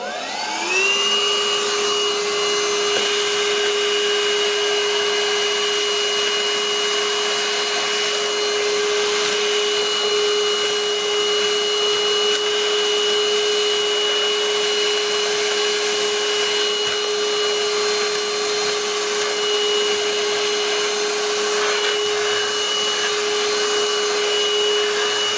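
Portutif cordless handheld vacuum cleaner running steadily with a high whining motor tone, picking up crushed cereal through an attachment, loud and close, continuous for the whole stretch with no talking.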